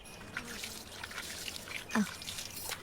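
Water trickles and splashes as hands are washed in a film scene, with a soft, uneven pour close by and one brief louder splash near the end.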